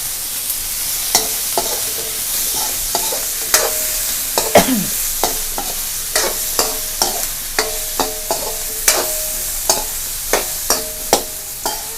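New Zealand mussels and eggplant stir-fried in a spicy pan, a loud close sizzle punctuated by a steady series of sharp metallic spatula scrapes and clacks against the pan, no talking.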